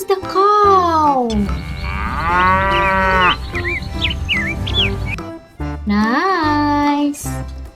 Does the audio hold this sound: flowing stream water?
no